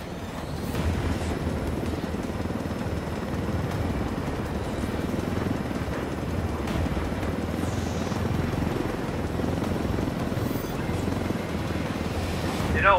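A helicopter flies in Ghost Recon Wildlands, its rotor and engine roar steady and close for the whole stretch, with wind-like rushing layered over the constant drone.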